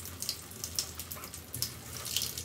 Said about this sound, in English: Alright, we got water running through there.